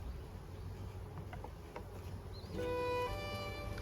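A newly formed honey bee colony buzzes in a low, continuous hum, with a louder tonal drone rising up close toward the end.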